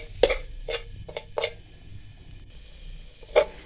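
A spoon scrapes and knocks against a pan as semolina roasts in homemade desi ghee, several separate strokes spaced irregularly over a faint low hiss, close by, with no talking.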